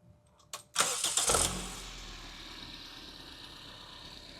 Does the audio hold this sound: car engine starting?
yes